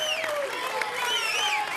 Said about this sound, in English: we are surrounded by a magnificent crowd of hardcore fans